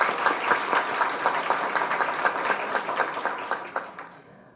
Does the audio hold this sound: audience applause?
yes